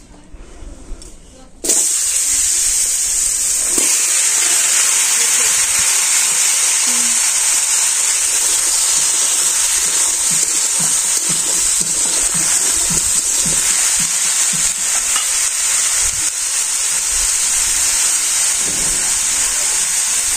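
Pieces of bottle gourd dropped into hot oil in a kadai in a village kitchen set off a sudden, loud, steady hissing sizzle that continues without a break after a brief quieter start.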